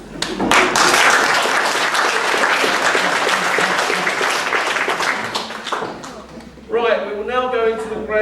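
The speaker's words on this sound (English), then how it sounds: "So I want you each to give yourselves a clap." Audience applause fills a village-hall revue show in Ninfield, dense and steady for several seconds before fading, then cheerful voices and music-like tones come in as the clapping dies down.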